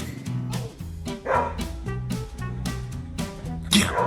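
Benny, a security dog, gives a run of short barks and yips close by, mixed with steady tonal background sound and occasional louder bursts.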